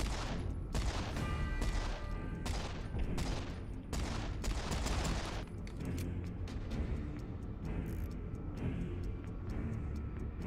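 Rapid video game sniper rifle shots crack in a loud, dense string, closely spaced over a constant background of game sound, thinning out slightly toward the end.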